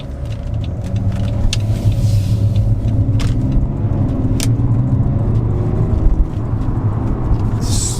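BMW 335d xDrive diesel car driving, a steady low engine rumble and road noise from inside the cabin, with a few faint clicks and short sharp sounds over the drone.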